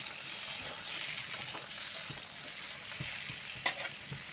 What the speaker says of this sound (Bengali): এখন আমি এই যে কড়াইতে দিয়ে নিলাম, বেগুনটা ভেজে নেব সুন্দরভাবে।